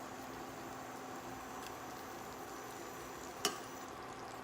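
Butter melting in a pan for a creamy sauce gives off a soft, continuous sizzle and crackle, steady and close, with one brief sharp tick partway through.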